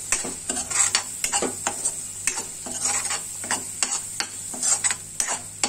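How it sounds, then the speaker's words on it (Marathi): Ground spice paste being stirred into hot oil for a Maharashtrian val bean usal, with repeated scraping strokes of a spoon in a pan over a steady sizzle, close and fairly loud, no talk. "तेलामध्ये वाटण रस मिक्स करून घेऊया"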